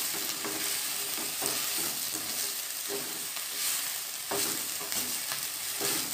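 Ambadi flowers dry-roasting in a pan over low gas for jam, with a steady close hiss of sizzling and repeated scraping strokes as they are stirred throughout.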